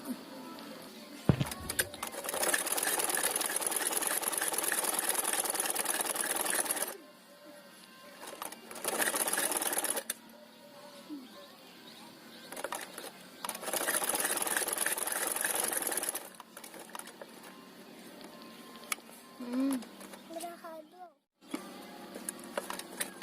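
Sewing machine stitching a reusable cloth face mask, running in several long steady bursts separated by short pauses, close and loud, with brief speech in the gaps.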